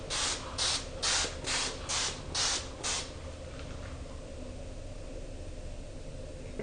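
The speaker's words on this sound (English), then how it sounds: "I'm gonna do a face mist now because you can never have enough face mist." Face mist sprays from a pump bottle in seven quick, close hissing bursts at an even rhythm, followed by quiet room tone.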